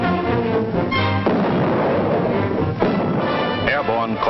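Artillery guns firing in battle sound as two heavy, booming blasts roughly a second and a half apart, set against a dense, loud backdrop of voices or music.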